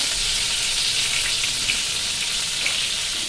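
Eggplant frying in a pan of hot oil, a steady dense sizzle held close and loud throughout, with no talk.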